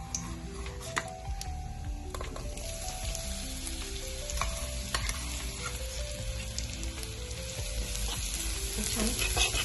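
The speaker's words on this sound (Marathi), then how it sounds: "आता आपण याच्यामध्ये हे मिक्सरमध्ये बारीक केलेलं वाटण थोडंसं परतवून घेऊया" Ground spice paste sizzles and is stirred in a hot pan with cumin while cooking an instant fasting masala dosa. A steady, fairly soft frying hiss runs throughout, with light scraping strokes from stirring and a faint ringing tone in the background.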